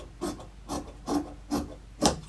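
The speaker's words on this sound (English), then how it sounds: "there's no seam on this side, so I'm just going to cut in like 1/2 inch" Scissors cut through a cotton T-shirt with five evenly spaced, short rasping snips, each a brief scratchy crunch close to the microphone.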